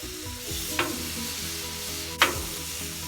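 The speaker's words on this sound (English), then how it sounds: "Oh, listen to that sizzle." Porterhouse Wagyu steaks sear on a piping-hot grill with a loud, steady hiss and crackle, close up, with two sharp sputtering pops of fat standing out from the continuous sizzle.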